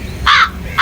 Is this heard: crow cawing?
yes